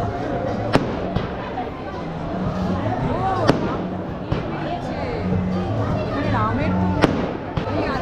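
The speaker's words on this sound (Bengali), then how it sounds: "ম্যারোডে একটা মন্দির এরকম ভাবে বাজি ফাটছে" Firecrackers burst at a hilltop temple in Kullu during Hindu New Year celebrations, sharp cracks ringing out at intervals over a steady crackle and murmuring crowd, with speech in the background.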